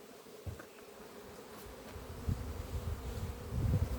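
Swarms of honeybees fly around the hives of a large apiary in May, making a steady, dense buzzing hum that swells louder toward the end, with no talking.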